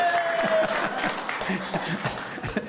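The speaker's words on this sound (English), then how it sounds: "That's more applause than we ever got in our collective years at Shakey's" An audience at a pizza parlour sing-along claps after a song, a short, fairly close burst of applause that fades toward the end, with a brief held tone at the start.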